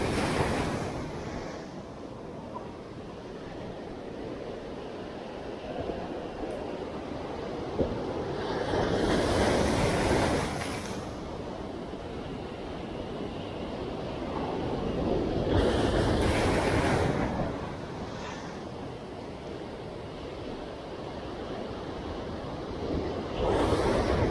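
Sea waves roll in at a sunny, choppy fishing spot in Pangasinan, with steady wind rush between two louder crashing surges, heard alone without any speech.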